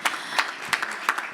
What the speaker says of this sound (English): I mean, we can clap for that.